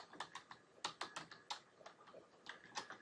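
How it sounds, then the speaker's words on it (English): Computer keyboard keys clicking in quick uneven bursts, with short pauses between groups of sharp, close, moderately quiet keystrokes and no voices. "And then I hit space, enter"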